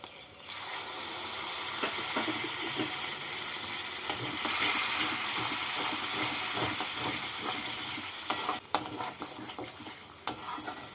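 Masala of red chilli powder, salt and turmeric fries with a splash of water in a pan, a steady hissing sizzle with repeated spatula scrapes and a few clinks near the end.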